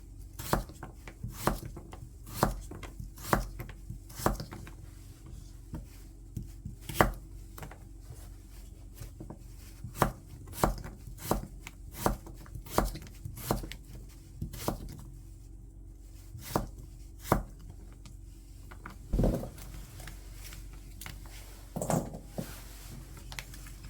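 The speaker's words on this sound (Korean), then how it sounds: "무한 개 약간 도톰하게 썰어서 준비해주고" A knife cuts radish into thick slices on a board in steady, crisp chops that repeat at an even pace for a long stretch, close and clear with no talking.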